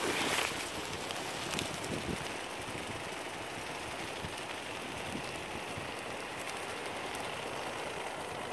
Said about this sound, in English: Like, pretty windy outside.